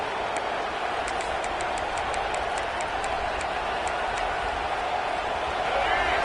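A football video game crowd roars steadily as one dense, unbroken wash of noise throughout, with a faint train-like rumble beneath and a commentator talking over it.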